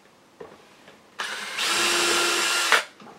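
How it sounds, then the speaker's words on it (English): A power drill boring a 7/16-inch hole in deer antler whirs loudly for about a second and a half after a few faint knocks, its high grinding tone steady before cutting off abruptly. "first thing we're going to do is drill a"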